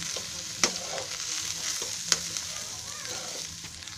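Shredded cabbage sautéed in a pan, giving a continuous soft sizzle with the scrape of a spoon turning it and two sharper taps against the pan, close and alone.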